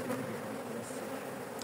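Honeybees buzzing around an opened hive during frame rearrangement, a dense continuous droning hum at moderate distance with no voices.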